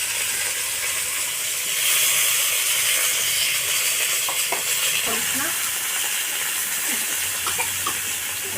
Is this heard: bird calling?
no